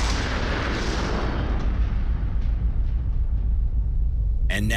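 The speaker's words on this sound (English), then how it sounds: "Let's watch that explosion in slow motion." Tannerite target blast set off by rifle fire and replayed in slow motion: a long, stretched low rumble that fades gradually, with a sharp burst near the end.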